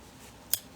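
Scissors make a single short, crisp snip through sewing threads on a homemade robe costume, heard alone against quiet background.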